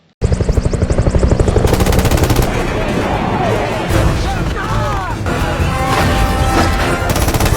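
Rapid bursts of automatic gunfire rattle loudly amid a dense, chaotic film soundtrack of booms and battle noise, as police fire at apes pushing a bus as a shield.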